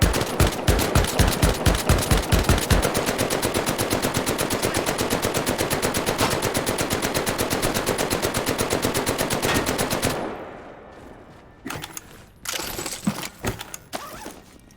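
Rapid automatic fire from a World War II gun in the Medal of Honor VR video game, a long sustained burst of fast, even shots for about ten seconds, then a few scattered shots after a brief pause.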